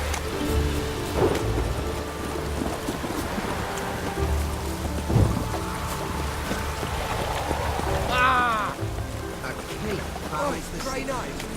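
Steady heavy rain pours down in The Witcher 3: Wild Hunt, a constant wash with a faint rumble of thunder, while game voices and shuffling sounds come and go over it.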